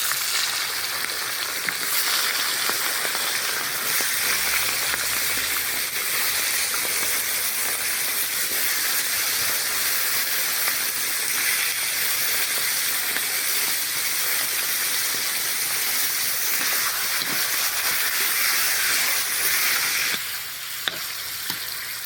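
Lamb meat sizzles in rendered tail fat in a kazan, a dense, steady, hissing fry close by that runs without a break and with no talking.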